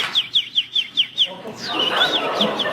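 A voice imitates a small bird, chirping in a quick, regular series of high tweets, then a trilling warble follows over a faint background murmur.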